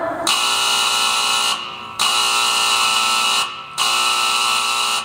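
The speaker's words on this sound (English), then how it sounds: "Alarm!" A loud electric alarm buzzer blares in three long, sustained bursts separated by short gaps, sounding just before a firing on a shoot.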